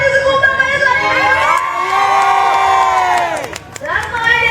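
A crowd at a live concert at Padang Fair 2013 cheers and shouts loudly, a dense wave of many voices with high whoops that dips briefly before surging again.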